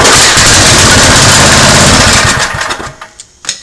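Craftsman rototiller engine running loud on carb cleaner alone, a steady rough roar for over two seconds that falters into sputtering pops and dies out with a final sharp bang.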